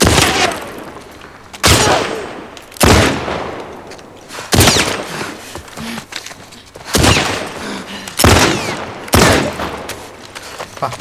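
Gunshots in The Last of Us Part II ring out as about eight loud, sharp blasts at irregular intervals, each leaving a brief echoing tail.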